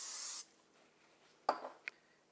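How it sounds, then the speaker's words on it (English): Cooking spray from a can hisses onto a pan over a sink in one short, close burst, followed by a couple of faint clinks and handling sounds. "Now we're going to spray our pan"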